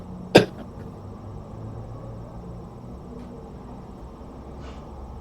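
A single sharp cough rings out near the start, brief and fairly close, followed by a low, steady room hum with no speech.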